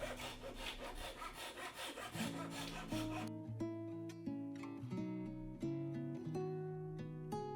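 A hand saw rasps back and forth, trimming excess wood off a glued kumiko grid to shape it into a hexagon. The strokes are close and rhythmic, and background music plays over them, becoming prominent partway through.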